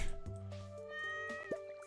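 A cat meows in the farming game Stardew Valley Expanded: a short, bright meow rises near the end over a steady backdrop of layered game music, close and clear.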